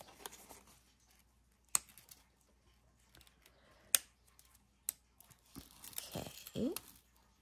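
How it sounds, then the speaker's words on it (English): Backing being peeled off adhesive craft vinyl for gingerbread ornaments, faint close-up crinkling and sharp tearing sounds with a few clicks and a brief longer rip near the end. "Now I need to peel the back off."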